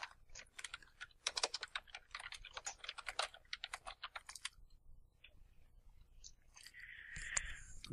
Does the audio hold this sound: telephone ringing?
no